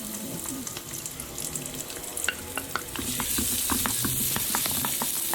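Ginger, dried chili, onion and curry leaves fry in a pan for a sambar lentil curry, a close sizzle with frequent light clicks of stirring that grows into a denser, louder hiss midway.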